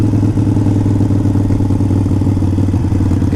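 A Harley-Davidson 883 Iron motorcycle engine rumbles close and loud, with a steady low throbbing beat that holds throughout.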